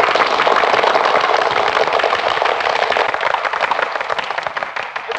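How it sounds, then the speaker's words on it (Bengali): A crowd of people claps together in a dense, continuous round of applause, loud and close, tapering slightly toward the end. "এবার হাততালি।"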